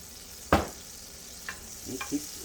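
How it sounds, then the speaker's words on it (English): Butter and a little oil heat in a frying pan before pork chops go in, with a faint sizzle behind a sharp clunk and a few softer scrapes and taps. "I'm gonna do them in butter. Add a little oil to where the butter don't burn."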